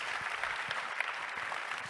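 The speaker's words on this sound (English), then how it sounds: "Please give yourselves a lovely round of applause for making time for this" Brief round of applause from a conference audience at an innovation event, evenly spread clapping at a moderate distance, steady throughout with no speech.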